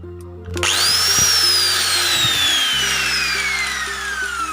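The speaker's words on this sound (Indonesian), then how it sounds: "Coba pakai gerinda." Angle grinder spinning up and running, loud continuous high whine that rises sharply at the start and slowly falls in pitch as it keeps going, close by with no talk.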